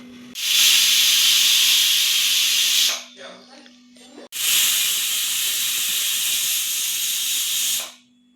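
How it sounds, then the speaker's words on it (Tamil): A pressure cooker cooking mutton pepper gravy on the stove lets out two long, loud, close whistling hisses of steam, each lasting a few seconds, with a short quieter gap between them. "விசில் வந்துருச்சு, நான் ஆஃப் பண்ணிக்கலாம்."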